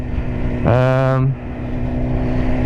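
A 2015 BMW S1000RR with the baffle removed from its stock exhaust idles, then gives one short, loud rev of about half a second before settling back to a steady idle.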